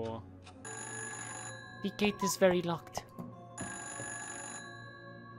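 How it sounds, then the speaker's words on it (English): A phone rings in the video game Fran Bow in two steady electronic bursts, with a person speaking briefly between them. "The phone always rings every time I go on that floor."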